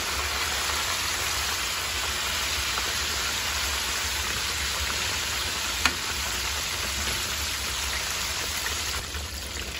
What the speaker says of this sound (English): Okay, while this last one frying, y'all see me take the oil.